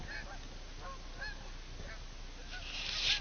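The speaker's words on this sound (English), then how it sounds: "There's the lead bird." Geese migrating in flight over a pond on the old Farmington Canal honk repeatedly as the flock passes, a string of distant calls in a row over faint background noise, growing slightly louder toward the end.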